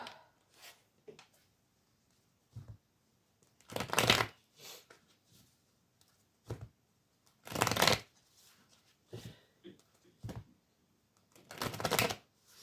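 Tarot cards are shuffled in close, soft riffling bursts, three main bursts spaced a few seconds apart, with lighter handling noises between them in a quiet room.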